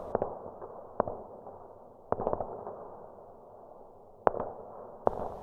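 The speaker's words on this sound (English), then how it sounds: "75mm shots ring out and quickly turn the two American vehicles into flaming wrecks" High-velocity 75mm tank gun fire from a German Panther in a 1944 Saint-Lô battle scene: several sharp, dry blasts spaced a second or two apart, each with a short rumbling tail, fairly close with no voices.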